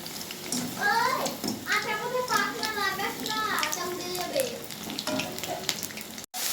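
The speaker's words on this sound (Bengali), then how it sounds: "তেলটা দিয়ে দিই। এই যে ভেজে নিচ্ছি।" Onion and capsicum frying in hot oil for chili chicken, a steady broadband sizzle running beneath a voice that talks almost throughout, with a brief dropout near the end.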